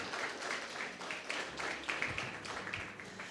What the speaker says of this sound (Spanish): Denle un fuerte aplauso a su Señor.